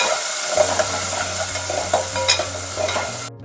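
Onions sizzle in a hot pan with a few cloves, a steady close frying hiss with occasional stirring scrapes, continuous until a sudden cut at the end.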